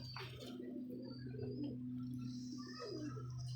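A pigeon coos softly and steadily at close range among rooftop pigeons kept for sale, over a constant low hum, with no talking.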